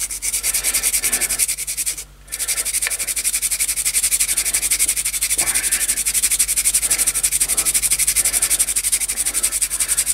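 Scotch-Brite pad scrubbing the ignition points of a 1964 Evinrude outboard motor, a rapid rhythmic rasping rub that repeats back and forth, close and steady, with one brief pause early on.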